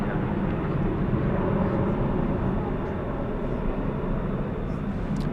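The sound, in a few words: Boeing 737-800 airliner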